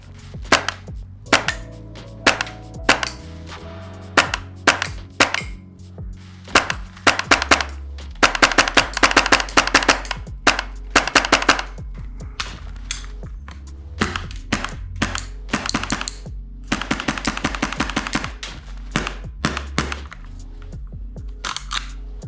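A Kythera airsoft gun on an air hose, fitted with a hop-up unit, fires a long series of sharp, loud shots, single snaps early on and then rapid bursts of closely spaced cracks.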